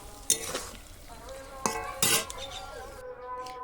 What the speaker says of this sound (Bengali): এখন মাংসটা রান্না হবে